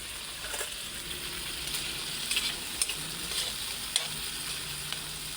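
Mung beans and other ingredients sauté in a pan for a Filipino monggo dish, giving off a steady close sizzle. A utensil scrapes and stirs through it now and then, and no one speaks.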